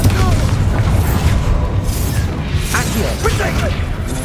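A Bombarda spell explosion in Hogwarts Legacy: a loud, dense, rumbling blast with debris crackle that fills the whole moment.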